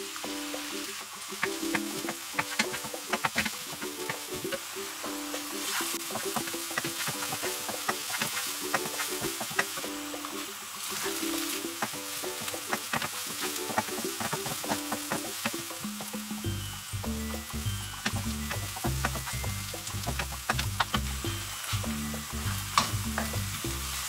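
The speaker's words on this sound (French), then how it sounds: "Poêle, un peu d'huile chaude. Vous mettez vos oignons dedans. On va les faire dorer." Onions dropped into a pan of hot oil fry with a soft, continuous sizzle and occasional stirring, accompanied by background music and no talking.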